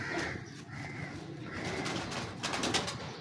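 A young high flyer pigeon coos close by in soft, repeated throaty rolls that run almost continuously over a few seconds, with no talking over them.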